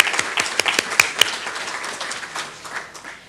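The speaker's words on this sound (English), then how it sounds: "So if you would give a round of applause for all these dedicated employees," A school board meeting audience gives a round of applause. A few loud, distinct claps ring out early, then the clapping thins and fades into scattered lighter claps.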